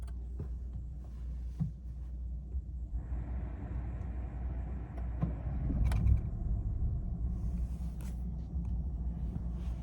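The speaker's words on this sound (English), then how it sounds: "Let's start the car." A 2020 Vauxhall Corsa starts up and idles with a low, steady engine rumble, picking up slightly in the middle as the motor settles into running, close and without talk.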